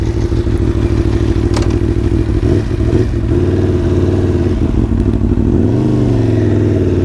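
A loud Aprilia Tuono V4 Factory motorcycle engine rumbles continuously close by, revving and shifting pitch as the bike gets underway, with some clattering thumps.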